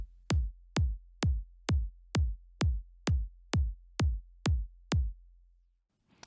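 A four-on-the-floor psytrance kick drum pattern from the Reason drum sequencer thumps alone, eleven punchy, evenly spaced deep kicks with short decays, stopping cleanly near the end.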